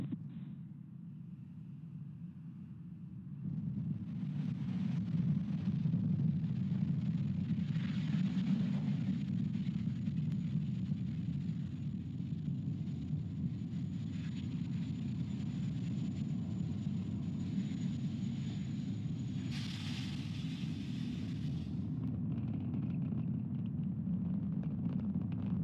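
SpaceX Falcon 9 rocket lifting off from Florida with a batch of Starlink satellites, heard as a distant, steady low rumble that swells after a few seconds and holds, faint and throbbing, with no talk.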